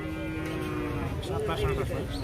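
A cow lets out a long, close moo over a busy background of crowd murmur and chatter at a cattle market in Tangail, Bangladesh.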